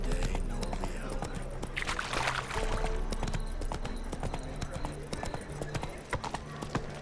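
Horse hooves clip-clopping at a steady trot in The Witcher 3 video game, close and fairly loud, with music and a voice speaking over them.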